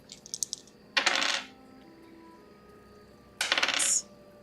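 Dice rattle across a tabletop during a tabletop role-playing game session, two short bursts of clicking tumbles a couple of seconds apart, close and fairly quiet, after a faint initial clatter.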